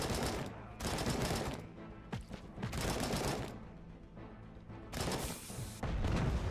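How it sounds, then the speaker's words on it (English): In the video game Robocop: Rogue City, dense bursts of automatic gunfire and grenade explosions come in loud, overlapping waves with brief lulls between them. "Grenades! So many grenades!"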